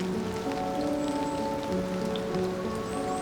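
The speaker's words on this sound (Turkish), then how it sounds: "Bayağı sağanak yağış var." Heavy downpour falling on a forest trail of the Kumano Kodo pilgrimage route in Japan, a dense, constant hiss of rain hitting ground and leaves, with no voices.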